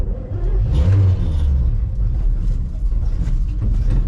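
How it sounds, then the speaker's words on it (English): A 1964 Chevy grain truck engine pulling away in second gear, a loud low rumble that swells briefly then settles into a steady throaty drone, close by. "We can start it in second, but we can't start it in first"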